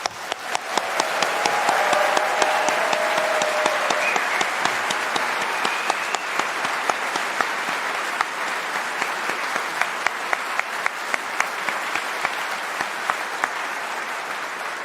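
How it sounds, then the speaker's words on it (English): Applause at a university science convocation, with a large crowd clapping loudly and steadily for a long stretch, sounding full and continuous at first, then thinning into more separate claps. "it deserves the loudest round of applause you can come up with"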